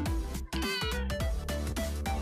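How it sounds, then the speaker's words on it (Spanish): A pet cat meowing indoors, a string of repeated drawn-out meows in quick succession, close and clear with no talk over them. "ahí vamos a poner un miau"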